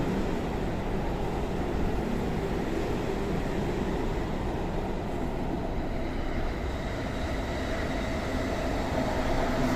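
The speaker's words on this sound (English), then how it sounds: "See, the trains are pretty frequent." A steady, loud rumble of a train rolling past between Ikebukuro and Shinjuku in Tokyo, continuous low-frequency roar with rattling wagons throughout, no voices.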